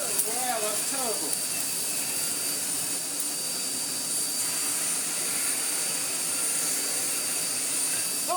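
A Miele Blizzard CX1 bagless vacuum cleaner runs steadily with a loud, high, whining hiss, constant throughout, and a few brief squeaky tones near the start.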